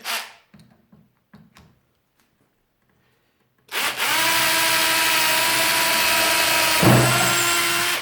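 A few light knocks and taps, then a Parkside PBHA 12 A1 cordless hammer drill in drilling mode runs with a loud, steady whir at close range, with a brief surge in pitch near the end.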